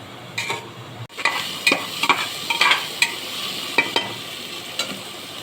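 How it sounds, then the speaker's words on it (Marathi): Pav bhaji vegetables sauté in a pan, a soft steady sizzle under the repeated scrape and clink of a spoon stirring, close by and without talk. "हे सगळं व्यवस्थित परतून घेऊया."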